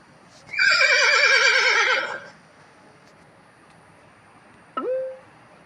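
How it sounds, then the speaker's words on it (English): A horse gives one long, loud, quavering whinny lasting well over a second, followed after a pause by one short spoken word. "Horse."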